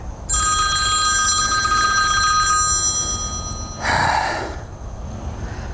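A telephone rings nearby, a loud electronic bell trill lasting a few seconds over outdoor background noise, followed by a brief breathy vocal sound and a quieter stretch.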